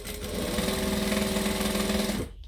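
A sewing machine stitches along a tacked-down fold of a fabric bag, running in one steady, even burst for about two seconds before stopping.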